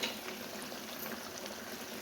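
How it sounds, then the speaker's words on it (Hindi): Hot oil bubbling and hissing in a pan as fish fries, a steady, continuous close-up sizzle with no pauses and no talking. "इस तरह बिल्कुल जो ऑयल है उसके ऊपर बबल आने चाहिए।"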